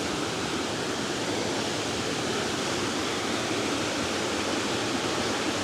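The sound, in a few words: water flowing through an abandoned mill building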